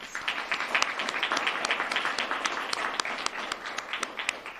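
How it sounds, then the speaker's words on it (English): A seated audience applauds student speakers at a government proclamation event in Hawaii, a steady patter of many hands clapping at moderate distance, with a few sharper claps standing out. "if we could give them a round of applause"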